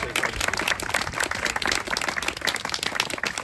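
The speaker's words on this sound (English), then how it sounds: "can we just give those students a round of applause?" A round of applause for students at a school launch ceremony, many hands clapping in a dense, continuous patter from a gathered audience, lasting a few seconds with faint voices mixed in.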